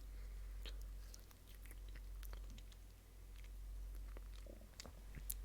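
Close, quiet chewing of a raspberry cheesecake crumble cookie with chocolate and cream cheese frosting, soft wet bites and crunches repeating irregularly alone.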